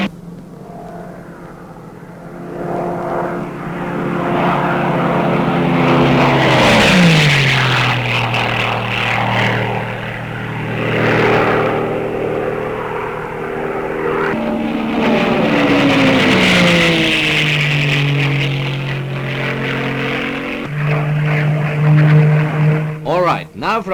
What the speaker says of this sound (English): Now watch the Tempest going through her paces